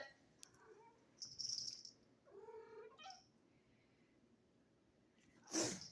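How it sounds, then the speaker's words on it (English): A cat makes several quiet vocal noises, short chirps and meows spaced apart, ending with a sharp sneeze-like burst. "My kitty cat's making all the noises."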